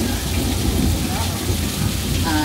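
A mechanical rain and thunder effect on a Universal Studios tram tour pours as a loud, steady, dense hiss of falling water with low rumbling beneath, continuous throughout.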